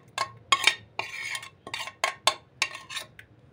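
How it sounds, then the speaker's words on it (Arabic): Catfish being mixed with salt in a large container, a series of sharp clattering and scraping knocks at irregular intervals, close and fairly loud with quiet gaps between. "هحطها هنا في حاجة كبيرة عشان هخلط القراميط بيها كلها"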